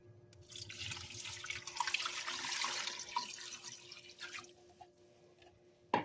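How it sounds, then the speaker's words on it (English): Water from a tap runs and splashes steadily into a cooking pot for several seconds, about 10 cups for chicken and dumplings, then tapers off with a brief clunk at the end; no voices. "I'm going to add quite a bit of water."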